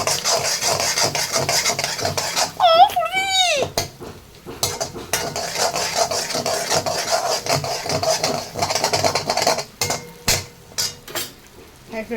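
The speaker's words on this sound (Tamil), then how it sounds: "ஸோ முட்டை வந்துட்டு இப்படி ஆகிற அளவுக்கு கிண்டிக்கோங்க." Egg fried rice being stirred in a pan, with repeated metallic scraping and clanking of a utensil against the pan throughout, plus a brief squeak near the start; no talk.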